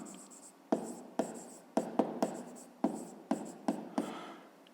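A pen scratches across paper during a math lesson, a series of sharp, close strokes in an uneven rhythm, with faint quiet in between.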